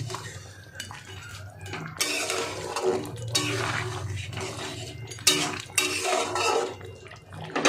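Rohu fish head stirred into a cooking pot for a rice-based ghonto, with scraping and clinking of a spoon against metal, ending in a lid being set down with a sharp clank; no talking.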